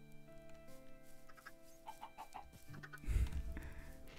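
Chickens in the Minecraft video game cluck in a few short, soft bursts over a low, steady game background, with a louder thump near the end.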